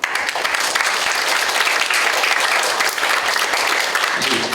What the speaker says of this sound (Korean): 공감한다고 생각하시는 분은 박수 한번 쳐보세요.